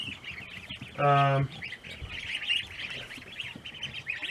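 Indian Runner ducklings in an off-grid brooder at night peep continuously in high, busy chirps, with one brief louder tonal call standing out near the start.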